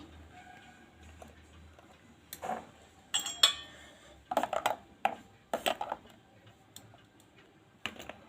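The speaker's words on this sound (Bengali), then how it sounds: "এবারে দইয়ের মধ্যে আমি একটা করে বরফ দিয়ে দিচ্ছি" Ice cubes drop one by one into a bowl of whipped yogurt for lassi, making a few separate clinks and knocks spread unevenly across a quiet room, with no voices.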